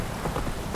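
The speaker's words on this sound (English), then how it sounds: "This downpour's a bastard, it is." Steady hiss of a heavy rain downpour in the video game Witcher 3, a dense, constant wash of falling water with no voices.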